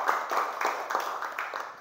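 A class of schoolchildren claps together after a lesson activity, a brief burst of close, fairly loud clapping with a loose rhythmic pulse, heard without talk.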